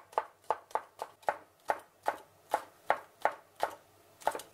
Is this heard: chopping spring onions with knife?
yes